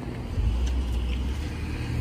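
A car going by on a road, a steady low rumble of engine and tyres that holds at moderate loudness for the full moment with no talking over it.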